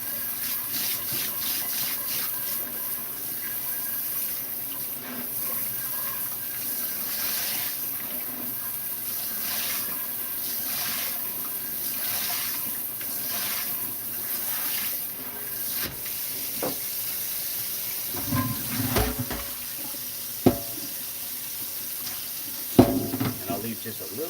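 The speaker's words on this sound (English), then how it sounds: "So I run the hot water through here and I get this pan as hot as I possibly can." Hot tap water runs into a cast iron pan, a steady soft hiss and splash that continues for a long stretch, followed by a few clanks and bumps of the pan near the end.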